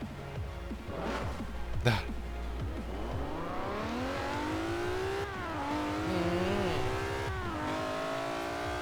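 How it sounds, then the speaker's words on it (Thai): A Nissan Skyline 2000GT-R engine in the video game Forza Horizon 4 revs and climbs in pitch through several rising sweeps, with a sharp click early on, loud and close, with no talking. "ฟังเสียงเครื่องยนต์กันครับ"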